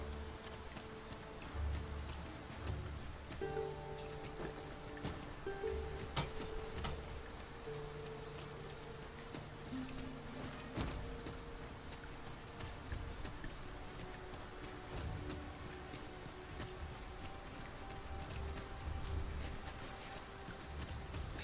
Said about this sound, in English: Tis raining.